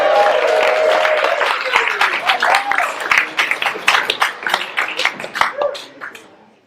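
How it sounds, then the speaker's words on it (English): Audience at a summer talent show breaking into applause and cheering, loud and full at first, then thinning into distinct claps before fading out, with a sustained whistle or shout early on. "let's give a big round of applause for Michael Logan, the Pirates"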